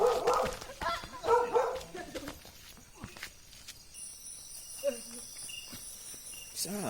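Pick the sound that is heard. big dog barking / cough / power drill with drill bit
big dog barking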